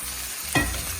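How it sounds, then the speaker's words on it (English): Okra dropped into a hot pan with saltfish, bursting into a loud, steady sizzle that swells abruptly and keeps hissing close by, with no voices. "Alright, so now I add my okra to this."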